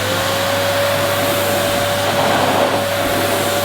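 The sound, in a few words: vacuum cleaner running after being switched on by foot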